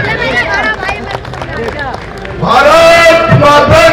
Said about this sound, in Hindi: तालियों से सम्मान करें।